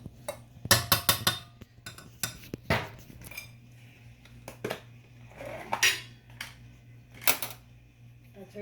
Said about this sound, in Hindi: चलें आप चलते हैं किचन में और पैन रखते हैं और मक्खन डालते हैं बीच में रज के